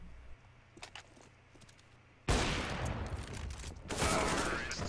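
Loud bursts of gunfire in a competitive team shooter match erupt after a quieter stretch, sustained rapid shots with a second heavy volley near the end.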